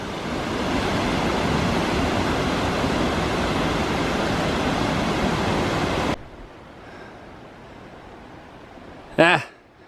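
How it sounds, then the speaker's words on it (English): Waterfalls along the North Umpqua Trail pour with a loud, steady, full rushing roar for about six seconds, then cut off abruptly to near quiet, followed by a brief sound near the end. "check out these waterfalls."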